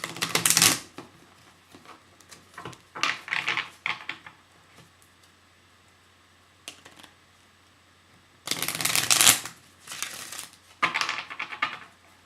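Bursts of stiff playing cards being shuffled, crisp riffling flurries separated by quiet pauses, close and fairly loud.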